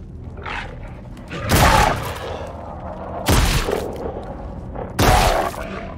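Three loud, sharp gunshots blast out at regular intervals in the horror video game Scorn, each a broad-band burst standing clear of a low, droning ambient background.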